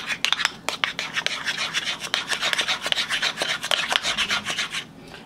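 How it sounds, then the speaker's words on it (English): A cake spatula scrapes and spreads frosting onto a checkerboard cake in close, steady strokes that rasp and rub with no voices. "cake spatula that I will be using to help me spread the frosting onto the cake"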